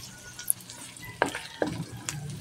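Vegetables are stirred in a sizzling pan, with a soft continuous frying hiss broken by a few sharp scrapes and clinks of a utensil against the pan. The sound is close and fairly quiet, and no one talks.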